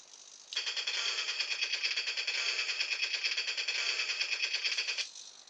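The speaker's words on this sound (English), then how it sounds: "that's our machine gun." Toy RC tank converted with a servo and DC switch firing its electronic machine-gun sound effect: a steady, rapid rattling burst that starts abruptly, runs for about four and a half seconds at even loudness and stops cleanly.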